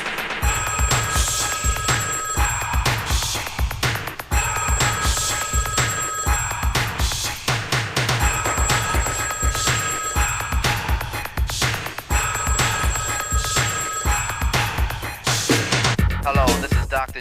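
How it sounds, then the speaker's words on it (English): A telephone bell rings loudly in repeated bursts with short gaps between them, carrying on for the whole stretch with no talking. "phone would ring. Heard it ring once, so I picked it up and said hello."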